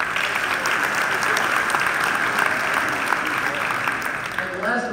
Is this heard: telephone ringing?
no